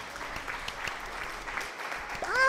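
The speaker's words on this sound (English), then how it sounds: "Thank you for the claps." A small audience gives soft, steady applause for a livestreamer. Distant-sounding clapping runs evenly under no talking, then thins out near the end as a brief voice-like tone cuts in.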